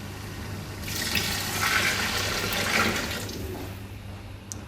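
Water poured into a cooking pot while making chicken pulao, a steady broadband rush of liquid running for several seconds with no talk over it, then tapering off near the end.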